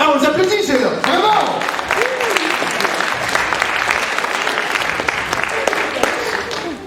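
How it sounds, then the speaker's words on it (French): Audience applause at a live comedy show, a steady burst of clapping for several seconds while a voice talks over it. "Ah, on vous applaudit, c'est là. Bravo!"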